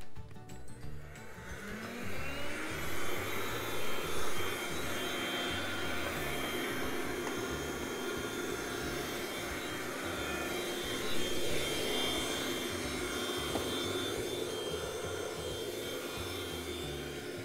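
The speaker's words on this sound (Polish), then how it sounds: "Taki odkurzacz świetnie też się sprawdza w odkurzaniu trudno dostępnych miejsc." A Philips FC6729 cordless mopping vacuum cleaner spinning up and then running steadily, a loud, even motor whine with airflow hiss that shifts slightly as it works into hard-to-reach spots.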